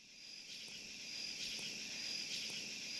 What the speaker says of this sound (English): the actual background noise that was going on with all the crickets and all the craziness